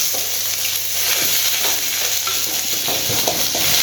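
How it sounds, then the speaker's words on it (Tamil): Dried red chillies and curry leaves frying in hot oil with mustard seeds, a steady close sizzle and crackle with occasional stirring taps, continuous throughout without talk. "காஞ்ச மிளகாய் போட்டு வதக்குறேன்"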